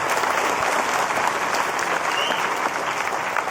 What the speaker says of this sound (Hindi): बजाइए जोरदार ताली बजाइए।